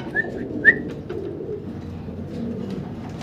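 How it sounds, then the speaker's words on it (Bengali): Shadel racer pigeons in a cage give two short, clear calls early on over a steady murmur of background noise, with no talk. "শ্যাডেল রেসার কবুতর।"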